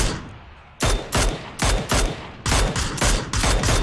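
Gunfire in PUBG, several close, loud shots in quick uneven bursts after a brief quieter moment, each crack sharp with a short tail, and no talking over it.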